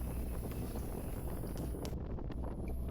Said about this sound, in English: So windy this spot is.